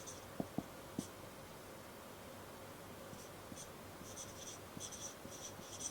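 Marker or chalk writing on a classroom board during a narration lesson, a few faint scratchy strokes with small taps, quiet and sparse against a low room hum.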